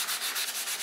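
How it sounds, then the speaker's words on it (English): A brief burst of steady, rhythmic abrasive rubbing from an electric sander working wood up close. "let's go over to the sander and"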